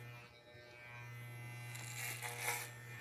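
Electric clippers shaving a head to show alopecia patches, a faint steady buzz with low hum and brief rustling strokes near the end.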